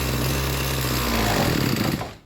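A small carburetor engine runs on choke close by, buzzing loudly and steadily, then rises briefly in pitch before dropping off at the end.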